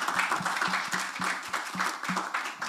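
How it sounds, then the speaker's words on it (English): A room of attendees at a COP27 side event on industrial resource efficiency in Lao PDR applauds the panelists, the clapping falling into a loose, fairly even rhythm of repeated beats at a moderate level. "give our panelists a warm round of applause"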